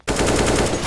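A short, loud burst of rapid automatic gunfire in a video game, its evenly spaced shots rattling steadily from just after the start to the end.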